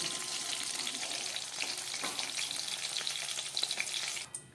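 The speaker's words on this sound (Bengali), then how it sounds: "আমি আলু বেগুনটাকে ভেজে নিলাম আলু বেগুন আর শিম বেগুনটাকে আমি এবার তুলে ফেলব" Potato, eggplant and bean pieces fry in oil over a lowered gas flame, giving a close, steady crackling sizzle with occasional stirring scrapes and no talking.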